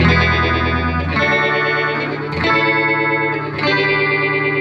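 An electric guitar plays sustained chords through an MXR Phase 95 phaser pedal in script mode, the tone sweeping and warbling as each chord rings out.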